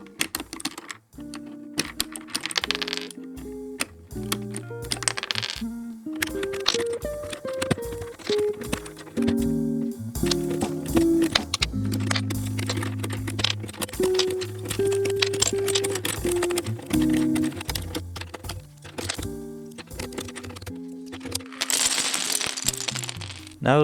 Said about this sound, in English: I'm just going to quickly use a keycap puller, which is this little tool here, and remove all of the keycaps from this current board